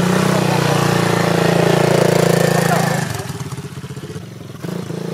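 A quad bike engine turning around sounds close and steady at first, then settles into a lower, throbbing pulse as it slows.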